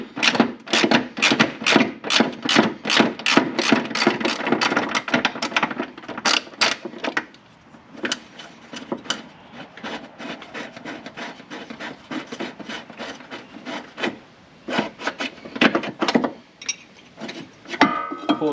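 Rapid clicking of a small ratchet backing off hardware from the front upper control arm of an R32 Nissan Skyline GTS-4, dense bursts of ticks close by with a brief quieter pause midway.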